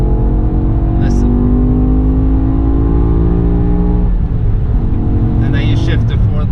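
BMW E60 M5 sedan engine revving hard under acceleration, a loud rising howl climbing through a gear, a sharp drop at the shift, then pulling again, heard from inside the cabin.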